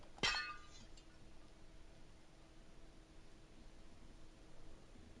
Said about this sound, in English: They're going to hear the glass breaking.